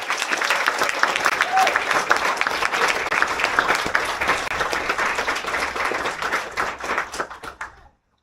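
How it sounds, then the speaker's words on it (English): A crowd of audience members at an Air Force cyber officer graduation ceremony applauds steadily with dense, close hand clapping that carries for several seconds before fading out abruptly. "Let's give one more round of applause to the class of"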